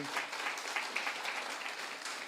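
Audience applause at an evening seminar, a dense, steady wash of many hands clapping at moderate, even volume with no voices over it.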